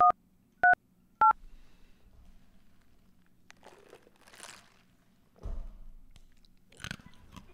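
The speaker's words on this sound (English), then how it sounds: "If you know the extension of the party you are trying to reach, you may dial it at any time." Touch-tone dialing of a phone extension: three short, clear DTMF beeps in quick succession at the start, followed by faint rustling and handling noises.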